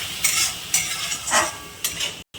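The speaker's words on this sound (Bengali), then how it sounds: "এবার আমি এই পেঁয়াজ বাটার মধ্যে আদা আর রসুন বাটা দিয়ে দেবো। ভালো করে একটু কষিয়ে নেব" A spoon scrapes and stirs ginger-garlic paste into sizzling onion paste in a pan of oil for egg korma, with repeated rhythmic strokes over a steady, close frying hiss.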